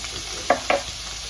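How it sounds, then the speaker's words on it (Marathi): Garlic cloves, seven or eight of them, hit hot oil in a pan while cooking okra bhaji, giving two short bright sizzling bursts over a steady low frying hiss, close by. "तेल गरम झाल्यानंतर आपण त्याच्यात 7-8 लसणाच्या पाकळ्या टाकायच्या"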